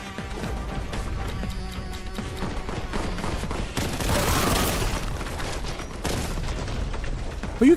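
Dense, loud gunfire and crashing explosions from the first-person shooter Warhammer 40,000: Boltgun, with continuous rapid shots and a heavier burst of blasts partway through, with game music underneath.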